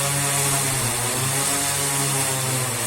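The SIYI D6 drone propulsion system's motors and propellers spin under heavy load with an 8-kilogram payload, making a loud, steady whining buzz with a constant drone throughout.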